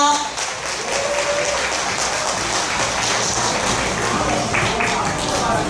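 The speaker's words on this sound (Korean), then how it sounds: "축하의 박수 주시기 바랍니다." An audience at a company award ceremony in Korea applauds, a dense, steady wash of clapping that fills the room from start to finish at an even level.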